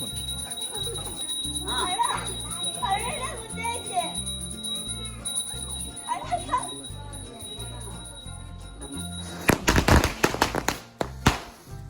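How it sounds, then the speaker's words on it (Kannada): Loud, sharp firecracker bursts crackle in a rapid cluster near the end, after Lakshmi Puja at a home, following a stretch of children chattering over steady background noise. "ಪೂಜೆ ಮಾಡಿ ಪಟಾಕಿ ಹೊಡಿತಿದ್ದಾರೆ."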